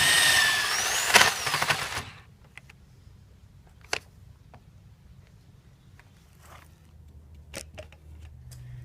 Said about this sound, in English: since I drilled the hole 2 inches deep